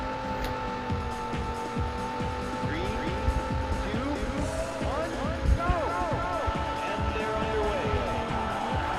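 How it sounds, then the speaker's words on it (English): Race car engines rev and whine with squealing tires in a Sega Saturn racing game, a steady loud electronic-sounding drone with rising and falling pitch sweeps, while a voice talks over it. "Gentlemen, start your engine."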